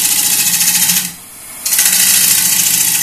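A wood lathe makes a light finishing cut on an unreinforced piece held in a chuck, giving a steady, loud, bright hiss of tool on spinning wood that briefly drops away mid-cut and then resumes.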